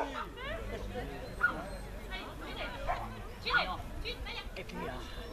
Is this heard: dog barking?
yes